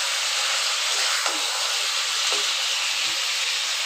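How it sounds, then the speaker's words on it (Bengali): Water poured into a hot pan of cooked-down chicken curry gives a loud, steady hiss of steam that holds evenly for a few seconds, with a few faint bubbling pops and no talking. "এবার আমি দিয়ে দিচ্ছি জল।"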